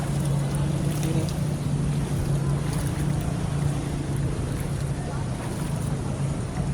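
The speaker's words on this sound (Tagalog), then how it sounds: "nilulusong ko yung baha dito sa may Marcos Highway, sa may Masinag. Hanggang tuhod siya" Wading through knee-deep flood water on Marcos Highway at Masinag, Antipolo, Rizal, during Typhoon Carina: continuous rushing water and wind noise on the microphone, with a voice speaking over it.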